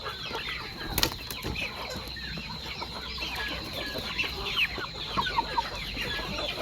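A flock of free-range village chickens clucking and murmuring softly in the background, with a brief flutter of wings near the start.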